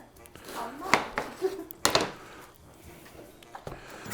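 A knife shaves a vegetable finely on a cutting board while a shrimp po'boy is being made, giving a few soft, close chopping taps and scrapes, fairly quiet, at an uneven pace.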